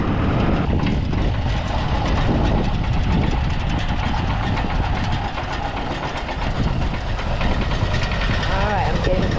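A tractor engine drones steadily while its PTO drives a fertilizer spinner, a loud continuous mechanical rumble with a voice talking over it.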